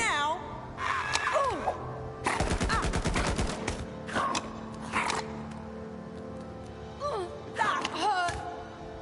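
Bursts of video game gunfire from a strong gun, rapid rattling volleys in short clusters, mixed with voices and character exclamations.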